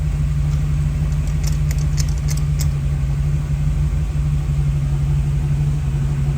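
The engine of a 1957 Chevy Corvette idles close by just after starting, a steady low rumble that holds even throughout.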